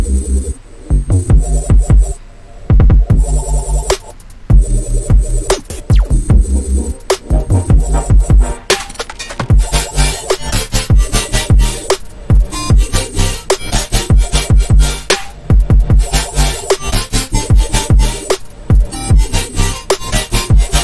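An electronic track hits its second drop, dense and loud, with pounding bass, a driving beat and bright, gritty synth layers that run continuously for about twenty seconds.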